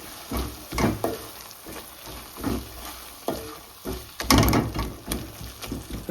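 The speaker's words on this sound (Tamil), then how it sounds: "கொஞ்சமாக கரம் மசாலா சேர்க்கணும் விளட்டி விடுவோம்" Garam masala gets stirred into curry frying in a pan, with a steady sizzle under a series of irregular scraping and knocking stirs, close and moderately loud, with no talk.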